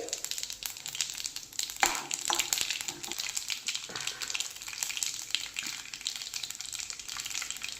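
Hot oil crackles and sizzles steadily as mustard seeds, cumin seeds and lentils fry for a tempering, with a few sharper pops and spatters over a constant hiss.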